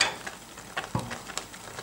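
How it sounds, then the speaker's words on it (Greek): Soy beans boil in a pot while a spoon stirs them, giving soft scraping strokes and a few light knocks against the pot, quiet and without talk. "Λοιπόν, συνεχίζουμε να ανακατεύουμε."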